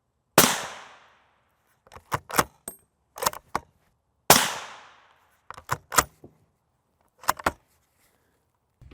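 Two loud .375 H&H rifle shots about four seconds apart, each a sharp crack with a ringing decay, followed by clusters of clicks and clatter from nearby handling or bolt cycling.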